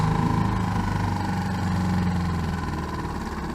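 A boat's outboard engine idles steadily just after being started, a close, loud, even mechanical throb with a low rumble and slight vibration, alone without talk.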